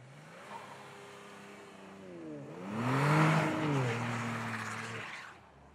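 An all-wheel-drive Kia Stinger revs hard in snow as its wheels spin, the engine note climbing and swelling to a loud peak mid-way, then holding and fading away.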